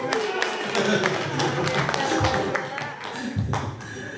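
Audience in a school training session claps for the presenter, scattered hand claps rippling through the room at moderate loudness while voices carry on underneath.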